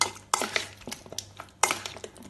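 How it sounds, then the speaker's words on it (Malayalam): Chicken dynamite being stirred with chopped spring onion in a pan, giving sharp clinks and scrapes of a utensil against metal in a few quick bursts, close and fairly quiet, with no talking. "ഇനി ഇതിലേക്ക് കുറച്ച് സ്പ്രിംഗ് ഓണിയൻ മുറിച്ചതും കൂടെ ചേർത്ത് ഇളക്കി മിക്സ് ചെയ്യാം."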